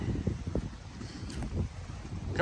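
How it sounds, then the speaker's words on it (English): Gusty wind buffeting the microphone, a low rumbling roar that rises and falls in bursts, fairly close and steady with no voices. "it's a little windy and chilly"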